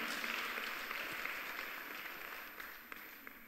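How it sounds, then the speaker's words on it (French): A church audience gathered for a French-language worship service on the Holy Spirit applauds loudly and steadily, a dense wash of clapping that fades slightly toward the end, with no voices over it. "Acclamez pour vous-même."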